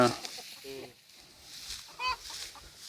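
White chicken clucking near a rice harvest in a rural field, several short bursts of clucks close to the microphone, with quiet background noise between them and faint voices.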